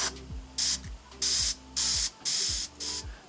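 An Iwata HP-CH airbrush sprays in five or six separate bursts of steady, loud air hiss, each lasting about a third of a second, with a low mechanical hum in the gaps between them.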